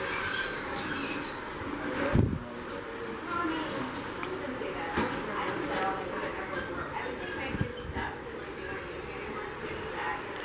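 A small model mine train rattles along its track at a large model railroad in Flemington, New Jersey, with clicking wheels and a brief squeal, while people chat nearby.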